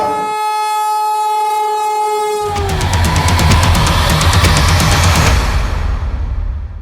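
A passenger train bound for NJP station sounds a long, loud horn blast, then departs with a heavy, close rumble and a steady run of rhythmic clacks that fade toward the end.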